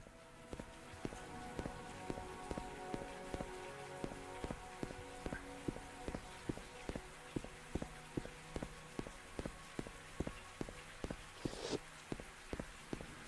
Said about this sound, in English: did it just start raining again?